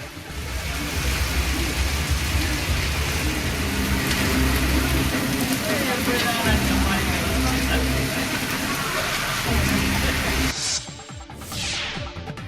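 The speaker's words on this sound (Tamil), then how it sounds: "இடியுடன் கூடிய கனமழை பொழிந்தது" Heavy rain pours steadily in a loud, continuous wash for about ten seconds, then cuts to a quieter stretch with a faint passing whoosh; no distinct thunder stands out.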